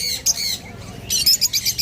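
Lovebirds at a busy bird market let out loud, near squawks and shrill chatter in bursts, with a run of rapid calls toward the end, with no voices among them.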